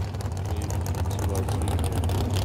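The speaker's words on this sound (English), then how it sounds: "Holden 202 powered front engine dragster. So it makes a great sound, this thing." A loud, steady engine rumble from a Holden 202-powered front-engine dragster at Sydney Dragway, with a deep low drone, running continuously and close by, with a rough, throbbing texture.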